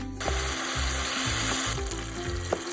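Flour-coated chicken feet fry in hot oil, giving a steady, loud, dense sizzle with occasional crackles and faint clinks from stirring.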